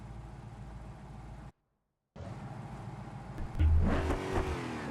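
Gavril V8 engine, a 5.5 liter unit in the BeamNG driving game, running under steady drone, cutting out briefly, then revving up louder with a rising roar toward the end.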